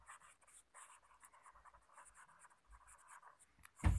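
Pen or chalk writes numbers during a class 5 maths lesson, a close, dry scratching of quick strokes and pauses, quiet and without talk, ending in a sudden low bump.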